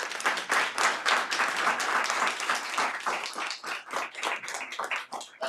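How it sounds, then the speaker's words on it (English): Applause from the audience at a county board of commissioners meeting, a steady burst of many hands clapping that thins toward the end, heard alone without talk. "So once again, another round of applause for Deb."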